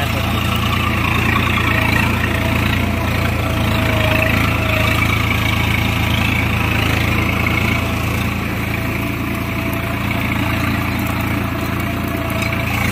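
A Swaraj 855 tractor engine runs at a steady, loud idle throughout, a constant low rumble without pauses or changes in pace.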